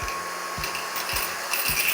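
Coins clatter as a Moron V6 cordless car vacuum cleaner sucks them up from a desk, its steady airy whir carrying a few sharp knocks at regular intervals.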